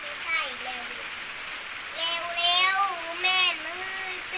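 Steady rain during a storm in Laos hisses evenly in the background while a voice talks over it in short phrases.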